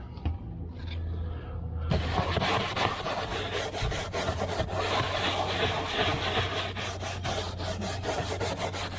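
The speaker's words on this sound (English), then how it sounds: "Just using a nail brush to get right into the plastics." A nail brush scrubs the hard plastic trim inside a Dacia car, a steady close rasping rub that starts after a short quiet moment and continues without pause.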